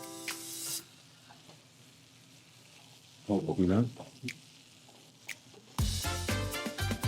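Meat-stuffed sausages searing in a pan over medium heat, a quiet steady sizzle punctuated by clattering, scraping handling noises and bursts of louder crackle, with a voice speaking briefly.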